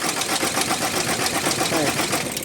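An Isuzu D-Max 4JJ3 diesel pickup engine cranks repeatedly with a rough, churning rattle that never catches and runs, loud and close throughout.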